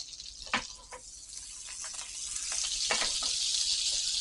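Oil and a little butter heating in a pan for a beef mushroom melt, giving a bright steady hiss that thickens and grows louder, with a few sharp pops and spatters, and no voices.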